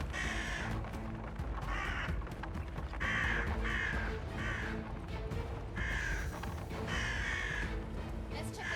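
Crows caw repeatedly in the video game Atomfall, several harsh calls spaced every second or so over a dense, noisy background of game ambience.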